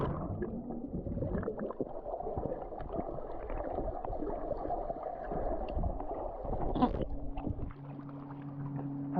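Someone swims in the sea at a nudist beach in Piran, Slovenia, with steady close splashing and gurgling water throughout, then a sudden loud burst of water near the end.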